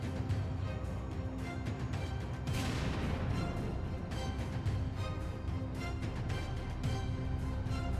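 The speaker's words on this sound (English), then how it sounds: "the drone throws a grenade inside the tank" A sudden loud blast as a drone-dropped grenade explodes inside a tank erupts from a constant roar of heavy machinery and crackling noise, followed by continued rumbling and sharp impacts.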